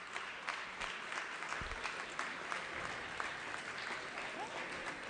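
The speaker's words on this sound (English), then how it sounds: "give them another big rousing round of applause" Audience in a state legislative assembly chamber applauds during a floor session, a steady, even wash of clapping that carries through the whole stretch at moderate level.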